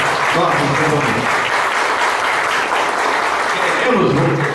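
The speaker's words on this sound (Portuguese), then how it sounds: "eu peço uma salva de palmas para nossos companheiros" Loud, dense applause fills a municipal party convention hall as members are honoured, a sustained crowd clapping close and steady throughout with a brief murmur of voices underneath.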